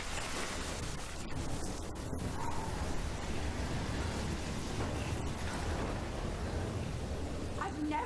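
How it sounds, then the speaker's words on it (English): Steady broadband rain and storm rumble from a thunderstorm in the game Life Is Strange, set in Oregon, with a few brief cracks near the start and middle; the dense wash holds at an even level throughout. "I've never seen a storm like this in Oregon."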